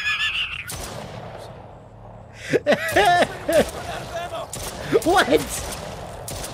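Scattered bursts of gunfire in the horror video game Stray Souls, sharp loud shots interspersed with a man's gasps and exclaimed speech.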